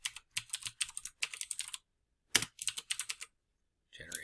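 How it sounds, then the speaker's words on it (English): Typing on a computer keyboard while setting up a first spreadsheet workbook: close, crisp clusters of keystrokes in short bursts with brief pauses between them, alone with no talk. "So I'm going to start typing."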